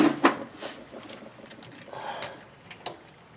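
A ratchet tightens 14 mm rear brake caliper bolts on a 2011 Toyota Rav4, giving quick, close metallic clicking bursts with pauses between turns and faint handling clatter.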